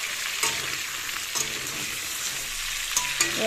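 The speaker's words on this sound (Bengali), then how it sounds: "চিকেনটা দেখো ভেজে নিচ্ছি" Chicken pieces frying in a pan, a continuous hissing sizzle broken by a few close scrapes and clinks of a spatula turning the meat, steady and moderately loud with no voices.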